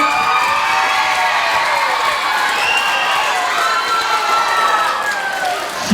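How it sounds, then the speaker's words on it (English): A loud school band concert crowd of children and adults applauds and cheers, with whoops and shouting voices layered over dense, continuous clapping. "let's give her a round of applause"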